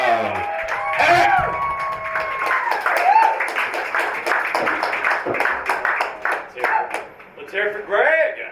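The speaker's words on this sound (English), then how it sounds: "give him a big round of applause" A stand-up comedy audience in Brooklyn claps and cheers with scattered whoops as a comedian takes the stage, the applause rising and falling under a voice talking.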